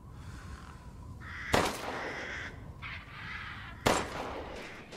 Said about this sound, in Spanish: ¿Hay cuervos? Escucho cuervos.